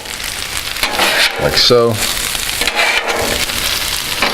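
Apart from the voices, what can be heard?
sauerkraut being stirred and sizzling in butter in a pan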